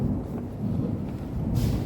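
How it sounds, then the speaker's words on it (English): A thunderstorm rumbles low and steady, a deep rolling drone with a burst of brighter rain or wind noise near the end, heard at moderate volume without voices. "Oh, a thunderstorm?"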